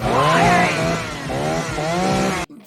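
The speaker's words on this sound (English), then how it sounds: "begins like attacking them with a chainsaw from the back of the truck" A chainsaw in the 1986 horror film The Texas Chainsaw Massacre 2, swung in an attack from the back of a truck: a loud, close engine whine that revs up and down repeatedly before cutting off abruptly.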